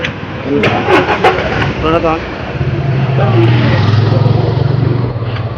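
A tempo's engine cranks on its starter and catches, then settles into a loud, steady, close idle. People talk briefly over the start.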